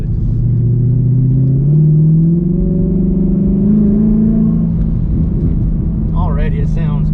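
A 2020 Mustang GT fitted with a Hellhorse twin turbo kit accelerates, its deep engine rumble rising steadily in pitch from inside the car, loud and continuous, with brief voices near the end.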